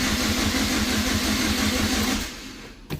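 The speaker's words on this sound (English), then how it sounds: "the engine sounds even" Chevrolet Cobalt SS engine idling steadily and evenly, a continuous close mechanical hum that drops off near the end with a brief knock.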